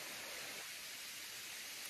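A steady, even rush of falling water from a low-flowing waterfall in the Logar Valley (Logarska Dolina), heard close up as a continuous broadband roar with no voices over it.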